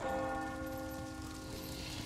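A church bell in the video game Resident Evil 4 rings with a sustained, resonant tolling hum that slowly decays, heard quietly on its own with faint background ambience.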